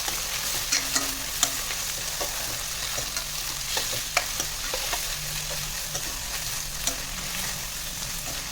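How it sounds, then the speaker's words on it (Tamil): Tomato and onion sautéing in a pan for brinjal kuzhambu, a steady close sizzle with intermittent spatula stirs and light scraping clicks, no talk. "தக்காளி ஆட் பண்ணிவிட்டு அதையும் நல்லா வதக்கிக்கலாம்."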